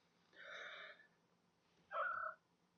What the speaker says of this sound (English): Cat's trying to interfere.